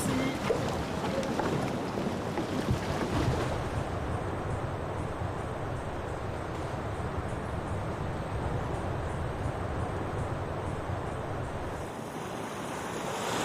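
A tour boat moving over open water in Guadeloupe, with a steady rush of waves and heavy wind buffeting the microphone throughout, no voices.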